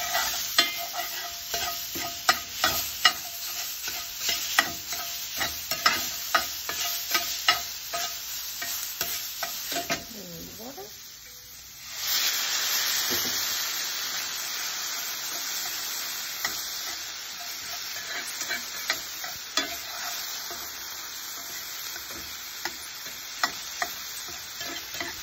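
Vegetables cooking in a pan ahead of a curried tofu scramble, a continuous crackling sizzle with stirring clatter and occasional ticks, briefly quieting before the hiss swells again.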